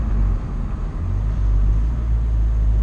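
A BMW Z4M Roadster's S54 engine with an Eventuri carbon intake cruises along a canyon road, producing a loud, continuous low rumble with road and wind noise.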